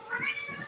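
A house cat lets out a single brief, bright meow close by at moderate volume, with no speech over it.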